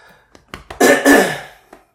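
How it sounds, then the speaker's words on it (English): A man coughs and clears his throat, a few short dry hacks building to two louder, harsher coughs, close and alone with no talking. "Just coughing."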